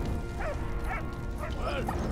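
A dog in the video game Valiant Hearts gives several short barks and yips in quick succession over a busy game background, with someone talking at the same time.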